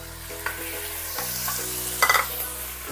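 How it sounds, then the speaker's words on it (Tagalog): Three pieces of tomato sizzle and soften in a hot pan while being stirred for sinigang sa miso with mayamaya fish. The frying hiss is steady and close, broken by a few clinks and scrapes of the utensil against the pan. "Ituloy pa natin yung pag-isa ng mga 5 minutes or hanggang sa medyo matunaw itong kamatis natin."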